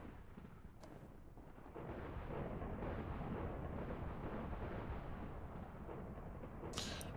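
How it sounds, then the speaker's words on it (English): Diesel generators from the Immersive Engineering mod in Minecraft chuff steadily under load, a dense rumbling drone that swells louder partway through and holds continuously, with a couple of brief sharp clicks at the edges. "See in the background the diesel generators start chuffing as as it's drawn on"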